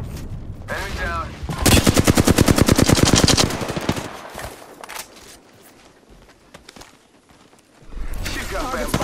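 Rapid automatic gunfire from a Bangalore match in Apex Legends, a loud sustained burst of dense shots lasting a couple of seconds, with voiced game callouts before and after and quieter battle noise between.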